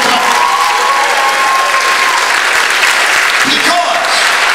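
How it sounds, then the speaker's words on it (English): Audience at a stand-up comedy show at Mohegan Sun applauding for troops and veterans, a loud, dense, sustained round of clapping with crowd noise and a few faint voices mixed in. "I want a nice round of applause for the troops and vets."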